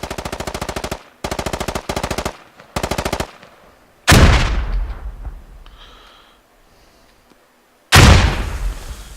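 Rapid machine-gun bursts rattle in short volleys during a multiplayer shooter round, then a loud, booming grenade blast rolls off into a long decay, and another heavy explosion follows.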